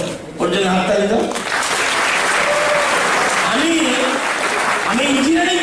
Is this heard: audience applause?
yes